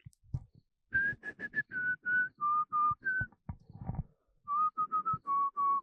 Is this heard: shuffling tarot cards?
no